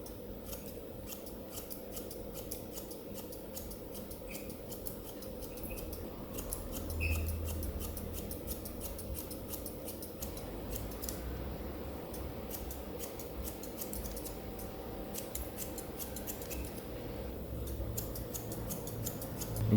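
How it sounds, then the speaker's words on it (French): Thinning scissors snip hair around the ear during a mid-taper haircut, giving a long run of quiet, rapid metallic snips heard up close over a steady background hiss. "je vais venir avec mon ciseau d'épaississant refaire toutes les connexions qui se trouvent ici"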